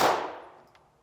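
A single sharp pistol shot rings out at a shooting range, loud and close, its bright crack fading into a short decaying tail.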